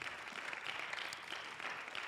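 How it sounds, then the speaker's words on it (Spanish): Applause from a church congregation at a Spanish-English bilingual service, a steady faint wash of clapping filling the short moment without voices. "Give a big applause to the Lord."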